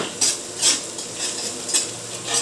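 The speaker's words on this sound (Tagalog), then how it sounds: "yung bawang, may bawang bagay luya. Pantay lang natin mag-golden brown yung luya." Garlic and ginger sizzle steadily in a hot pan while a utensil stirs in a few bursts, scraping the metal at roughly regular intervals; close and moderately loud, with no voices.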